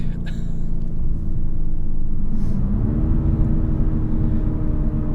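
A 2019 BMW M850i xDrive accelerates, its engine a steady low rumble that rises in pitch around the midpoint and keeps pulling, heard from inside the cabin with no talk.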